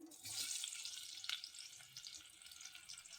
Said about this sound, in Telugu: ఇప్పుడు ఆలుగడ్డలు ఫ్రై చేసుకుందాం.